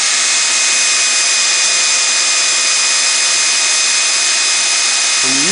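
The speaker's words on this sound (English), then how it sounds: "When you're using a tiny little drill bit, just take your time and let it just chowder away at its own rate." A Panasonic cordless drill with a tiny bit bores slowly into a small piece of wood, a close and steady high whine that holds without a break. Near the end the motor pitch shifts briefly.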